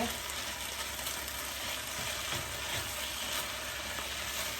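Leafy greens (shak) frying in a pan, a steady close sizzle with faint stirring scrapes, heard alone without talking.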